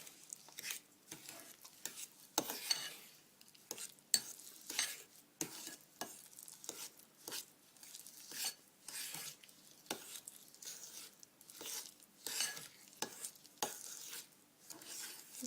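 A fork stirs cookie dough in a bowl, making repeated scraping and soft sticky patting strokes in an uneven rhythm, close up, with no talking.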